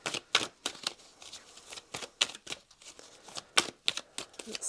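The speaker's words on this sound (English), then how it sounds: "One more shuffle, sorry. Just watching me shuffle." Tarot cards shuffled by hand in a string of crisp, close riffles and soft slaps, arriving in irregular bursts with short pauses between them and no voice.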